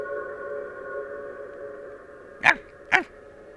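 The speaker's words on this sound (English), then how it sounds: "That's a dog." Two short, sharp barks from a dog in the game Shadows Over Loathing ring out about half a second apart over a soft sustained musical drone.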